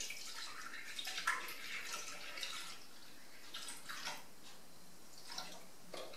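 Milk being poured into a Thermomix TM5 mixing bowl for cinnamon roll dough, a faint, steady liquid splashing and trickling that runs continuously for several seconds without any talking.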